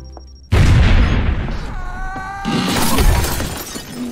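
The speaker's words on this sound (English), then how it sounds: "The plate glass window broke my fall." A plate glass window shatters in an animated film, with a sudden loud crash and spray of breaking glass, then a sustained screech and a second wave of tinkling debris, alone without talk.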